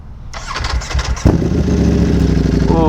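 A sport motorcycle engine, a Ducati Panigale V4 or Yamaha R1M, starts up close by. A brief starter whir gives way to a sudden catch and a deep, steady, loud idle rumble.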